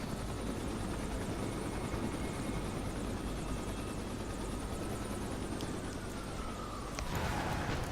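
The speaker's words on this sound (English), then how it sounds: "There it is. The chopper." A helicopter arriving in the video game Champions Online, a steady loud rotor drone throughout with a brief rising whine near the end.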